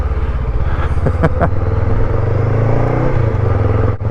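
A Honda NX500 motorcycle riding across grass, its engine a steady close rumble with a slight rise in revs and a few light clattering knocks.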